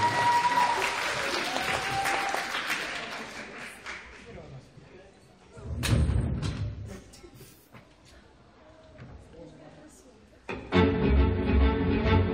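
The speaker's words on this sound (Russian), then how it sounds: "Аплодисменты!" Audience applause for a karaoke contestant at a cosplay festival, a burst of crowd clapping mixed with cheers and voices that thins out, followed by loud music starting up.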